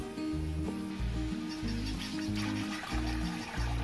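Water poured into sizzling sofrito for clam broth gives a continuous hissing sizzle with bubbling, trickling liquid, moderately quiet and steady throughout.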